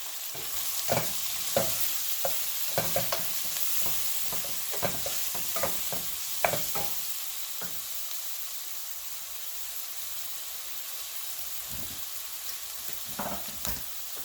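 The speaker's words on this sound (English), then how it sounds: "So I'll just allow this to saute." Turmeric and asafoetida sauté in a pan for a home-made tomato curry, giving a steady soft sizzle with repeated stirring scrapes and taps, close and moderately loud, with no talking.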